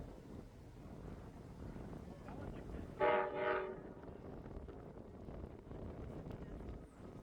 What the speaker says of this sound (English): It turned out to be Amtrak's Capital Limited on its way to DC from Chicago.